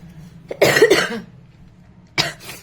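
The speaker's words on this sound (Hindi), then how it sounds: "फ्रेंड्स, खांसी के लिए माफ करना, मुझे थोड़ा सर्दी और खांसी हो रही है।" A woman with a cold coughs twice: a close, harsh double cough, a brief quiet gap, then a shorter second burst near the end.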